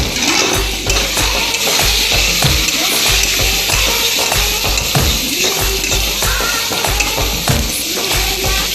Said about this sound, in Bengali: ভালো করে কষাতে হবে এগুলো।